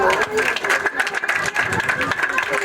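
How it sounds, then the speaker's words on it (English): A school audience at a Grade R graduation in Fish Hoek claps hands together in dense, steady applause that fills the whole stretch, loud and close, with crowd murmur mixed in. "Can we please clap hands for them?"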